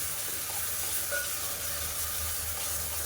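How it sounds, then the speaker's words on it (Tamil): Ground masala paste sautés in oil for mushroom biryani, a soft, steady sizzle continuing evenly throughout at low volume. "இதை சேர்த்துட்டு நல்லா எண்ணெய் பிடிச்சி வர அளவுக்கு வதக்கிக்கலாம்"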